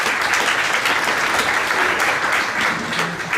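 An audience claps steadily and fairly loudly for a few seconds after a talk in a conference setting, a dense, even wash of applause with no voices on top.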